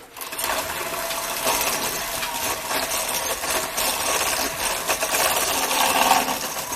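Electric mixer whirring steadily as it beats eggs, added one at a time, into chocolate chip cookie dough; a continuous close, even motor drone with no talking.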